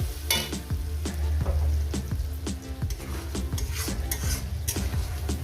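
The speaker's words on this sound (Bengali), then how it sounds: "এই মশলাটাকে আমি সুন্দর করে মিনিমাম আরও চার পাঁচ মিনিট ধরে এভাবে কষিয়ে নিই" Spice paste masala for mutton curry sizzles in a pan while a spatula stirs and scrapes in quick irregular strokes, close and steady with no talking.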